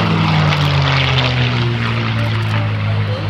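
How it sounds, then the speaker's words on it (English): A P-51D Mustang's piston engine and propeller drone loudly and steadily as the warbird flies past at an airshow in southern Wisconsin, a deep sustained roar with no voices. "probably the prettiest airplane ever built, the P-51 Mustang"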